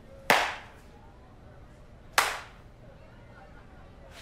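Two sharp, single hand claps spaced about two seconds apart in a slow, deliberate rhythm, each ringing briefly in a quiet room.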